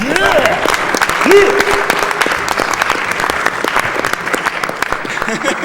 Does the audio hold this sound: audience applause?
yes